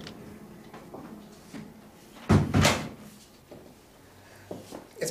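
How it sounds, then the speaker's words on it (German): A door is pushed shut in a 1988 German crime drama, one solid thud-and-clatter landing mid-clip amid quiet room noise, with faint smaller knocks afterward and no talk. "Mach die Tür zu."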